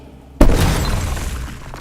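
A heavy gate bursts open in a single sudden crash as a dramatized effect, loud and abrupt after near silence, then a shattering, debris-like wash that slowly fades.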